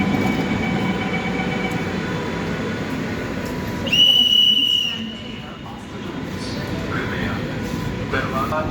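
A Lucknow metro train runs with a steady low rumble, a brief sharp high tone sounding midway before the noise dips and then resumes.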